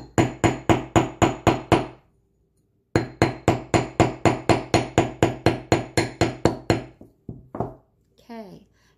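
The flat end of a hammer taps wire in quick, even bursts of sharp clinks, close by, pausing briefly before another run, followed by a short voice at the end.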